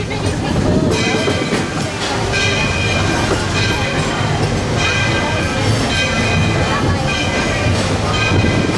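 A train rumbles and clatters steadily throughout, loud and close, with a continuous rolling rail noise, arriving at Main Street Station, Main Street, USA, at Disney World.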